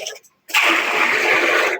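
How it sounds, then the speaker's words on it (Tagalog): Water is scooped from a water drum, giving a sudden, loud, continuous splashing rush that lasts over a second before tailing off, after a brief quiet moment. "Kuha tayo sa may drum ng tubig."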